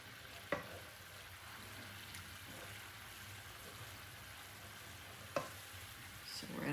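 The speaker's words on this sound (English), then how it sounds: "So we're at a good simmer." A sauce for garlic butter chicken simmers in a pan with a soft, steady bubbling hiss, fairly quiet, broken by two sharp utensil knocks.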